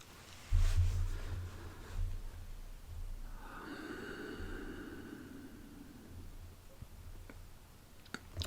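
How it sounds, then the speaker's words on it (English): Slow, deep breaths in and out, close and soft, with a long airy inhale building into the upper chest during a guided breathing exercise, with no talking. "gently expand the breathing further into your upper chest."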